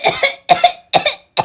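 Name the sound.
woman coughing deliberately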